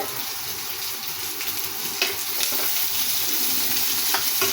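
Garlic and green chilli fry in hot oil for an eggplant and lentil curry, a steady, close crackling sizzle with occasional stirring scrapes and no talk.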